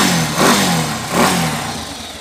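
A TMX155 motorcycle engine, just after its carburetor air mixture is adjusted to stop backfiring, revs up twice in quick succession, each rise falling back toward a rough idle, loud and close.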